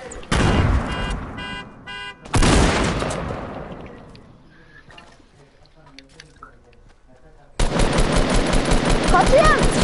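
Video game gunfire erupts in loud rapid automatic bursts, first in short volleys, then a long sustained stream after a quieter gap, with players talking between the shots.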